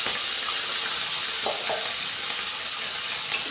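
Spices and ground cumin fry in hot oil with ginger-garlic paste, fenugreek, sesame and nut paste for Hyderabadi eggplant masala, giving a steady close sizzle with a couple of brief stirring clicks.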